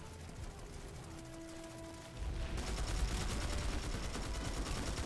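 Sustained automatic gunfire from the video game Planetside 2 on PS4, a dense rattle that starts moderate and grows louder and heavier after the first two seconds, continuing steadily without talk.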